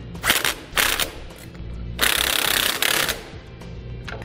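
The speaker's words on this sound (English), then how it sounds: "Then tighten them down using a 15 millimeter socket." A socket tool tightens trailer brake hardware with a 15 millimeter socket: loud, close bursts of rapid impact hammering with short breaks between them.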